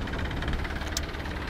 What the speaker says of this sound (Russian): А это наш экскурсионный катер такой